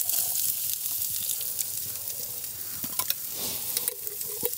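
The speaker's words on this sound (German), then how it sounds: "Jetzt braten wir uns erstmal ein paar gefrorene Zwiebeln an hier im Trangia." Frozen onions sizzle and fry in a pan on a Trangia camp stove outdoors in snow at about minus eight degrees, with a steady close hiss and occasional scraping taps of stirring.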